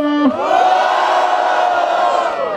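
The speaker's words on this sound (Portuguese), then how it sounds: "quem gostou das rimas do Mota faz muito barulho" A loud crowd at a rap battle erupts in cheering and shouting right after a brief voice, sustained roaring noise close and full throughout.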